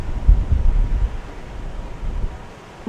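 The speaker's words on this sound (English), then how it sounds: "If it's windy as shit, I'm so sorry. Like, this breeze is crazy." Low, heavy rumbling of strong wind buffeting a microphone, strongest at the start, then easing off.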